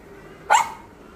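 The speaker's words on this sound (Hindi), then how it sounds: "भौंक कर किया है हमारा अभिवादन" A pet dog at home in Kolkata gives a single sharp, loud bark in greeting, close by, over a faint quiet room background.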